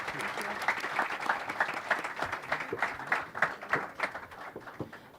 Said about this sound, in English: If I can ask for a big round of applause for our panelists